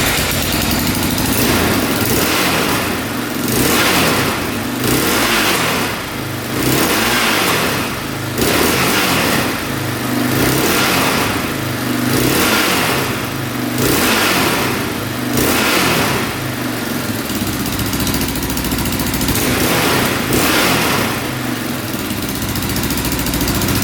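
A repaired quad's engine revs up over and over in a steady rhythm, with a loud, close surge roughly every two seconds that drops back between revs.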